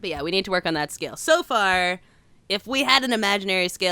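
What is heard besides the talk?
No everyday noise stands out behind the speech.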